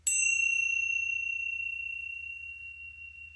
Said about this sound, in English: I will give it a little bit of a ting where you can just kind of bump them together.